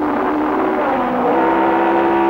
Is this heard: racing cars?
yes